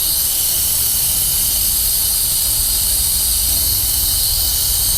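Pneumatic brake bleeder drawing old brake fluid out of a car's brake system, a loud constant airy hiss of compressed air running steadily and close without pause.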